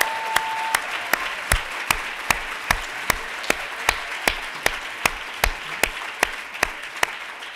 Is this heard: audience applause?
yes